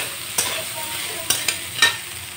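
Leftover rice and leftover vegetables frying in a pan, a constant close sizzle broken by four sharp scraping stirs at uneven intervals, with no one speaking.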